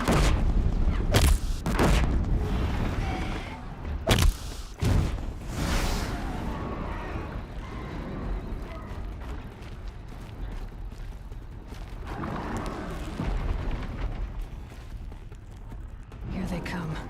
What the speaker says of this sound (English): Let's just you know, shoot some bombs.